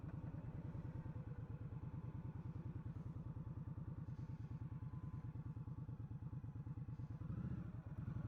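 A 2020 Indian Scout Bobber 60 cruiser motorcycle cruising in second gear at about 25 mph, its engine giving a steady, close, loud throbbing rumble of rapid even pulses throughout, with a slight swell near the end.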